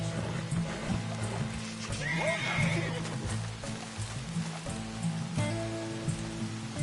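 A horse whinnies once amid hoofbeats and steady rain in a video game, with voices speaking and game sounds around it.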